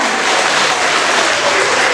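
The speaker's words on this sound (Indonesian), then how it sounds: "Tepuk tangannya mana?" Students applaud at a junior high school student council election debate, a dense, steady wash of clapping that stays loud and even for its whole length with no voices over it.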